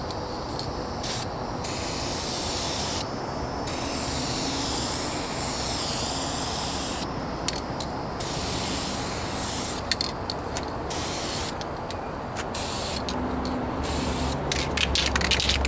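A rattle can sprays primer onto the rear bumper of a 1998 Toyota Corolla, a loud, close hiss in long bursts with short pauses between them, no talk.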